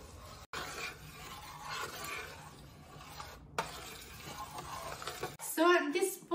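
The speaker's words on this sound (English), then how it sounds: "Once in a while, we need to mix it." Ox tripe rice porridge being stirred in a pot, a steady soft scraping and churning that runs for several seconds with a brief pause, then a voice talks at the end.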